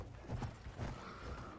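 Horse hooves gallop in the Battlefield 1 video game, a steady run of muffled clip-clop beats pounding close and loud beneath a dense wash of game noise.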